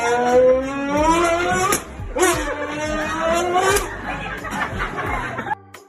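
A boy in a classroom imitates a car engine starting with his mouth, voicing rising, revving whines in a few bursts with sputtering breaks, close and loud, while other children chatter and laugh in the background.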